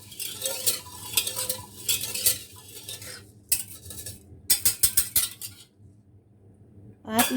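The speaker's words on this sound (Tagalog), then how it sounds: "Then, hahaluin lang natin." Pandan biko rice cake mixture stirred in a pot, a spoon scraping and clinking against the metal in bursts, with short pauses between stirring passes.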